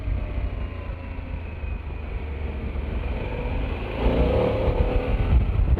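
A Harley-Davidson Pan America 1250 Special motorcycle engine while riding, a low rumbling drone under wind noise that swells louder near the end as the throttle opens, no voices.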